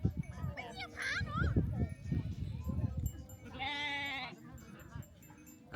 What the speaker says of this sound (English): Very vocal sheepies.